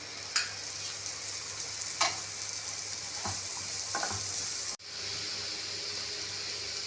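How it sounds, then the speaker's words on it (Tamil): Chopped large onions and curry leaves sauté in a hot pan for egg gravy with a constant loud sizzle, broken by a few scraping stirs of a spatula. "பின்பு பொடியாக நறுக்கிய பெரிய வெங்காயத்தை சேர்த்து ஒரு கொத்து கருவேப்பிலை, ரம்ப இலை இருந்தால் சிறிதளவு சேர்த்து வதக்கவும்"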